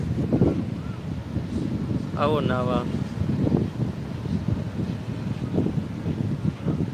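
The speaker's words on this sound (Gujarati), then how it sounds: "નજીક તો બહુ પવન છે દરિયામાં" Strong wind buffets loudly and continuously by the sea, roaring across the microphone while someone talks over it.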